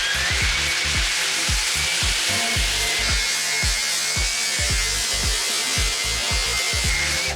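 A drill brush whirs steadily while scrubbing a sneaker sole, with a gritty hiss and a rapid series of low knocking pulses throughout.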